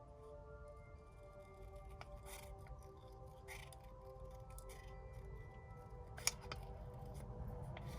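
Scissors cut small paper circles into thin spirals for paper flowers. The quiet snips and soft paper rustles come close up, with one sharper click near the end.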